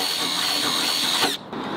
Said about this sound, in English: Let's drill out these two last holes.